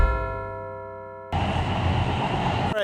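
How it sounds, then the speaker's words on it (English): Train ride in Malaysia toward Kota Damansara: a quiet tonal hum gives way abruptly to loud, broadband rolling rumble of a moving train, steady and close, with no talking. "Taufik and I, we just got on a train"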